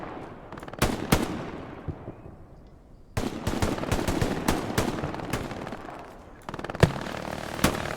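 Gunfire and rocket fire in a large team video game battle. Crisp bursts and single shots crack at close to middle range, one sharp blast decays slowly, and dense automatic fire rattles through the middle and end. Nobody talks.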